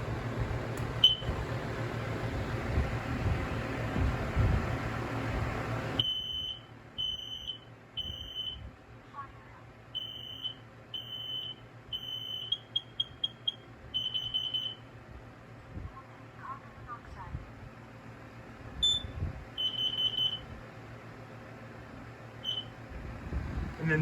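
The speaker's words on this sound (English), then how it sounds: "So here's the wireless Kidda smoke and carbon" A wireless Kidde smoke and carbon monoxide alarm sounding, its loud, piercing beeps repeating in short clusters after a stretch of background noise, with a person speaking now and then between the chirps.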